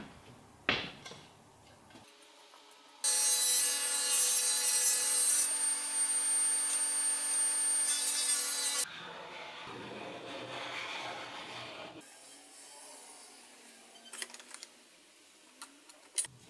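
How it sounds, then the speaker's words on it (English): A power saw cuts strips of silky oak and white oak: a loud, steady, high whine runs for about six seconds, then falls away to quieter workshop clatter and scattered knocks, with no talking. "I cut contrasting strips out of silky oak and white oak and glued those together."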